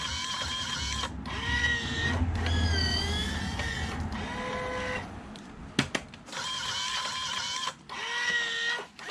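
A cigarette making machine filling cigarettes, its motor whining in rising and falling cycles broken by short pauses and a sharp click near the middle, steady and close with no talk.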